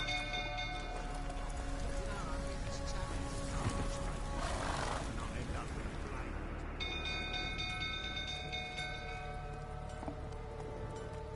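Roach the horse in The Witcher 3 gives a whinny amid a dense, steady game soundscape of hooves and ambient noise, with voices talking over it.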